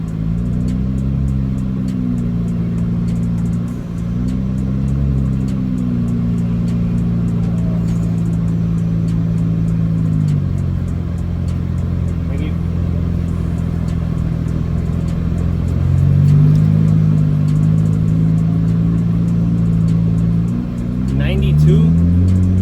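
A Nissan Z with upgraded turbos accelerates on a drag strip at a drag event, its engine droning loud and close with rising pitch sweeps through gear changes and a steady roar between them.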